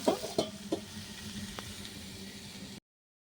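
Greens and eggplant frying in a covered pan on a clay stove, giving a steady soft sizzle with a few sharper pops at the start, heard close before cutting to silence.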